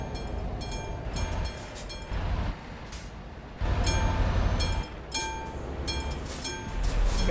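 A train passes in the truck-driving game Euro Truck Simulator 2, its wheels clacking in a steady rhythm of rumbling bursts over several seconds, close and prominent, with no talking.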